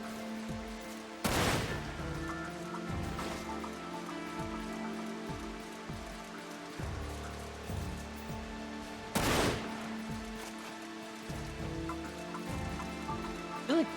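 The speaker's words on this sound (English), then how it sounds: "I feel like bullets came from that direction and they hit me" Sniper gunfire in the video game Final Fantasy VII: Dirge of Cerberus, with two loud sharp shots standing out over a busy game soundscape of rain-like hiss, tonal music and scattered smaller impacts.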